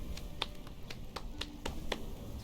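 Sharp clapping emote from a character in the Temtem video game, a series of about six evenly spaced crisp claps, fairly close and clear over a low background hum, with no talk.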